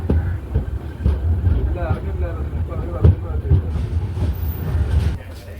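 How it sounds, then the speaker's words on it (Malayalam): Island Express train pulling in at platform 2 of Sasthamkotta railway station, a steady low rumble with irregular wheel clatter and thumps running throughout, while a voice talks over it. "Sasthamkotta railway station platform number 2ലേക്കാണ് train വരുന്നത്"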